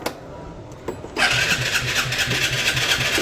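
An old vehicle with a history of repeated breakdowns is cranked by its electric starter after a quiet moment, catches, and settles into a loud, steady, close idle.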